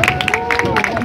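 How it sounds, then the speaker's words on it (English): An audience claps and cheers at a live stage show, with loud, steady applause mixed with crowd babble through the short burst. "Give me a round of applause, ladies and gentlemen."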